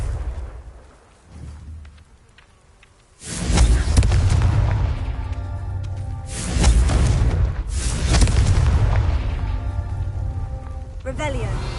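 The Confringo blasting spell in Hogwarts Legacy is cast and explodes in loud, heavy rumbling booms that crackle and roll on for several seconds, following a quieter start.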